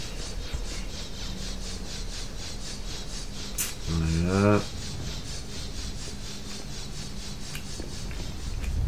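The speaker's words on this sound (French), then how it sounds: "Donc on repasse en dessous des scies circulaires." Circular saw traps in the video game Tomb Raider Anniversary whir steadily through a constant rasping, rubbing drone, with a harsher grinding burst midway, while a voice briefly speaks over the game sound.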